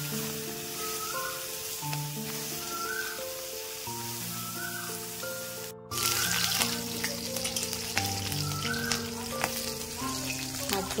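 Small fish frying in a pan in a home kitchen, a continuous crackling sizzle under steady background music, with a brief break partway and a louder, busier stretch after it.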